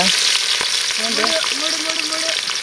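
Onions fry for chicken biryani in a pan cooked outdoors, a dense steady sizzle with a brief clatter of stirring near the start.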